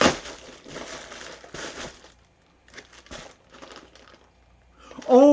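A double-layered plastic bag holding a heavy 50-pack of quilt-hanging rings crinkles and crunches as it is unpacked indoors, in several bursts separated by brief pauses, ending with a short vocal sound.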